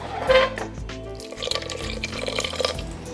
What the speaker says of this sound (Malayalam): ഇനി നമുക്കിതിലേക്ക് വെള്ളം കുറച്ച് ചേർക്കാം